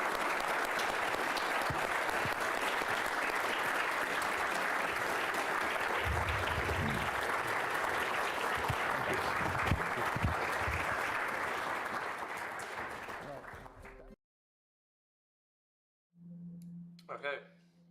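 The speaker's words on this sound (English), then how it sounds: "Round of applause." Conference audience applauding after a panel, a dense, steady wash of clapping that slowly thins and fades out, followed by silence and a brief clunk of handling.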